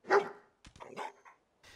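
A dog in Fallout 4 gives a loud close bark followed by a few softer yips and whines, with short pauses in between.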